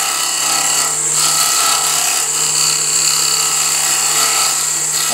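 A wood lathe tool scrapes the rim of a poplar scrap bowl, a steady close rasping hum with the spinning motor droning underneath, continuous and without speech.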